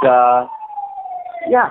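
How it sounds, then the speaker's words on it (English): A police siren passes on a Los Angeles street, a steady, distant wailing tone carrying under and between a man's speech. "actually, the police are going by. Ambulance."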